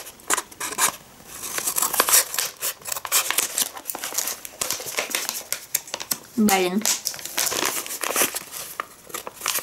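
Scissors snip and crunch through a crinkly plastic package from an online order in a series of sharp, close cuts and rustles, while a person mutters briefly.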